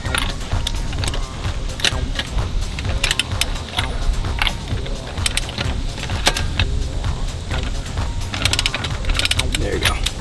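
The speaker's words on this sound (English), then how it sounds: "Next thing you're gonna do is you're gonna loosen the bolts." Metal clinks, ratcheting clicks and jangling tool sounds from loosening the front strut bolts on a Nissan, continuous and fairly close, with faint voices now and then.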